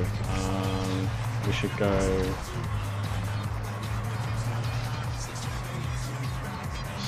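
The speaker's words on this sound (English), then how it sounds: "Hey guys, massive car here. Get in, we're going shopping." A large car is driven in the video game Warzone 2.0, its steady engine drone running throughout under loud talk from several players and game voices.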